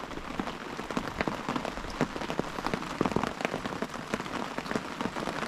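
Rain pours steadily on a tent at a riverside campsite, dense irregular drops tapping close by, with heavier individual plinks standing out from the constant hiss.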